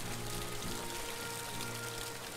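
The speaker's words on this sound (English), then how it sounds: "Wow, it's really starting to rain" Steady rain pours in the Kynseed video game, a dense, even hiss of falling water that holds without pause, with a low rumble underneath.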